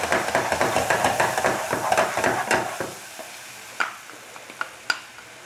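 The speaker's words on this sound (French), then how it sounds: "je rajoute le sucre, pardon, la crème fraîche et je continue de mélanger" Milk caramel is stirred in a pot after crème fraîche goes in, giving rhythmic close scraping and bubbling for about three seconds, then a quieter simmer broken by a few isolated clinks.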